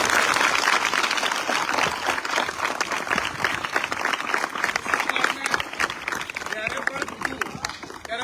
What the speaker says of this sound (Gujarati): એમના માટે આપણે બધાય જોરદાર તાળીઓ